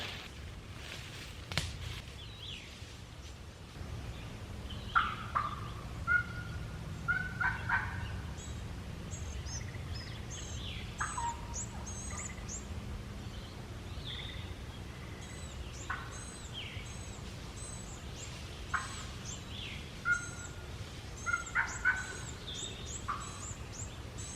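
Turkey calls ring out during a Virginia turkey hunt: repeated short yelping bursts in scattered clusters, moderately close, over a steady outdoor background hiss.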